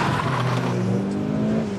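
Mitsubishi Lancer Evo 9 launching hard and accelerating, a loud, close engine roar with rising harmonics that keeps up for the whole stretch, with no talk.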